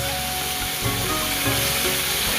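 Pieces of rohu fish fry in a pan with a steady, dense sizzle and crackle of hot oil, continuous and close throughout with no voices.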